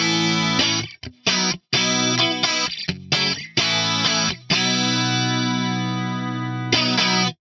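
An electric guitar runs through a Fractal AM4 chorus and delay block, giving shimmering, swirling sustained chords and notes, loud and close, with brief gaps between phrases and a long ringing final chord.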